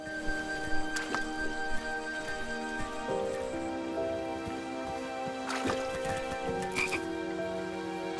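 Frogs croak in a King's Quest game scene, several scattered calls rising over a steady layered musical backdrop, with a couple of sharper bursts standing out.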